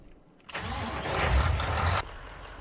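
A truck engine in a video game under development cranks and catches, rising into a loud rough idle for about a second and a half, then cutting off, with no voices.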